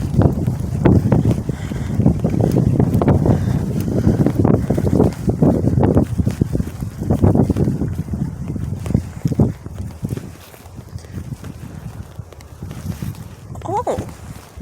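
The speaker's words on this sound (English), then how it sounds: "It's pretty windy out." Strong wind buffets the microphone outdoors at a nature center, a rough, gusting low rumble that swells and fades under a person talking throughout.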